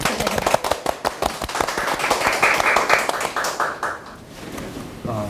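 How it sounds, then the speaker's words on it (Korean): An audience at a church lecture on the forgiven prodigal son breaks into applause, a dense patter of claps filling the room that thins out toward the end. "큰 박수로 시작하겠습니다"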